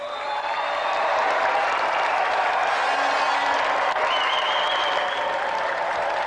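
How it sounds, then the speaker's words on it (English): A studio crowd at a televised arm-wrestling competition breaks into warm, sustained applause with some cheering for a competitor, dense and steady throughout at close range. "Let's have a warm round of applause for Tony the Lunatic Duray."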